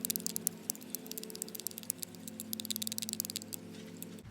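Thick Adidas shower gel stirred in a bowl for no-glue soap slime, giving rapid wet patting and sticky clicking that run steadily and close up throughout, with no talking.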